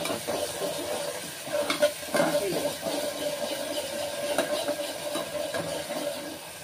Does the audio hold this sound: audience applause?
no